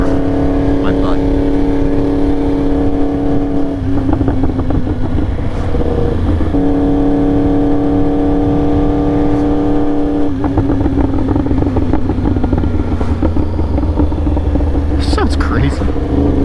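A motorcycle engine drones steadily while being ridden, with shifts in pitch as the revs change around gear changes, and a rider talks over the constant engine noise.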